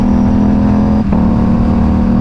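A KTM RS457 motorcycle with an SC Project exhaust and the catalytic converter removed idles steadily and loudly up close, a smooth, even drone with one brief dip in the middle.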